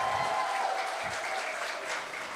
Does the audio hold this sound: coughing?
no